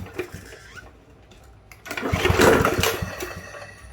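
A Yard Machine push mower's small gas engine is pulled and catches, a loud close sputtering rumble rising after a few quieter handling knocks and a recoil pull.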